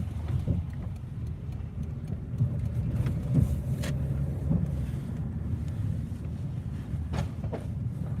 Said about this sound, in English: we got traffic.